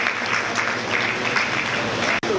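A crowd of schoolchildren claps steadily, a sustained burst of applause that fills the space before cutting off abruptly near the end.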